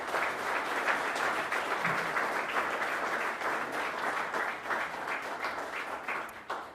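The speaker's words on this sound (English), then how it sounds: "give the WESSA Coastal team a big round of applause" Audience applause for the WESSA Coastal team at the WESSA National Blue Flag and Green Coast Awards 2025 ceremony: dense, steady clapping from a large crowd, sustained throughout and tapering slightly at the end.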